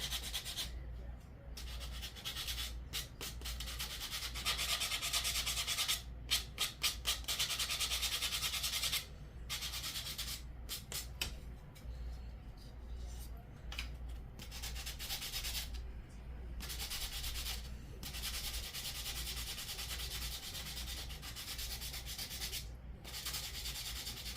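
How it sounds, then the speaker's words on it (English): A finger sander grinds steadily against the cut edges of Dollar Tree craft wood, a continuous raspy buzz with brief pauses and shifts in pressure, close up and fairly loud. "Now I am taking my finger sander and I'm sanding my edges from where I cut them."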